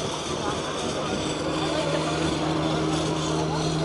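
An armored Humvee with four-wheel drive and four-wheel steering drives past at Tankfest NW 2019, its engine a loud, steady, continuous drone with a deep rumble throughout.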